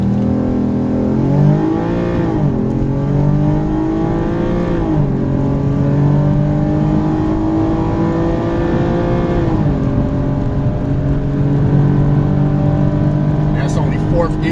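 An Audi TT, second-generation with a turbo intake, held at about 4,500 RPM on launch control and then released, its engine rising in loud repeated pulls through the gears with a sustained rasping drone and brief drops at each shift.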